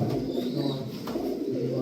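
Several pigeons coo steadily and close by in a breeder's loft, their low murmuring overlapping continuously with no gaps across the short stretch.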